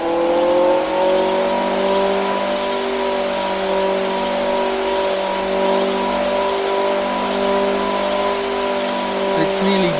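High-horsepower tuned car of over 1,200 horsepower revving under boost around 5,000 rpm, a loud, sustained engine whine with strong steady tones and a slight rise in pitch, heard up close and continuously.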